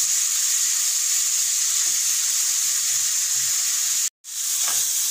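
Steady, loud sizzle of beetroot frying in hot ghee, a continuous hiss with a brief dropout near the end and no talk.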